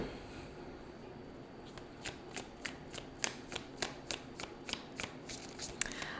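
An animal oracle card deck being shuffled by hand, close and fairly quiet, with a run of crisp, rhythmic riffles and snaps in the latter part.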